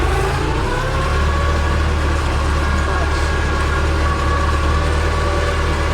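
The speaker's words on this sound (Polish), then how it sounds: "Jak ciągnik nie poddaje się orce i idzie." An MTZ 82 tractor engine labours steadily while pulling a new Rumptstad plough through a field, a continuous loud low drone with a droning mid hum that holds for the whole stretch.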